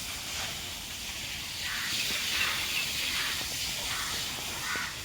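Water gushes and hisses steadily as buffalo dung is washed out of a stable floor in Surat, a continuous close spray that swells slightly in the middle.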